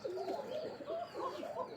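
Kokka pigeons packed into a delivery carton coo steadily and close by, a run of soft overlapping calls throughout with no talk.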